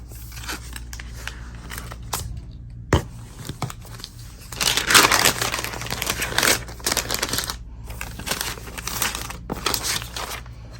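Plastic protective film and packaging being peeled and torn off a new silver M2 MacBook Pro during unboxing, close crinkling and ripping bursts that swell in the middle, separated by short quiet gaps.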